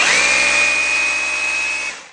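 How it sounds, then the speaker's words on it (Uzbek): A cordless perforator rotary hammer runs in one loud, close burst of about two seconds, spinning up quickly to a steady high whine with a low motor drone beneath, then cutting off. "Perforator mana 4-instrumenti perforator bo'lib turibdi."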